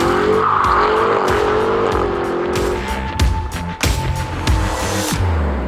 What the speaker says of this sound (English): This is the 2022 Cadillac CT5-V Blackwing. It's got a big name and a big engine. We're gonna take it out on track with IndyCar driver J.R. Hildebrand.